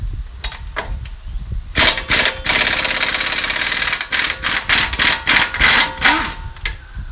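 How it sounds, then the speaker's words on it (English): An impact wrench on a 2012 Chevrolet Traverse loosens the two 21mm bolts holding the front brake caliper to the knuckle, with loud close rattling hammering bursts, one long run followed by shorter choppy pulses. "So we're gonna move these two 21mm bolts that hold the brake caliper off the knuckle."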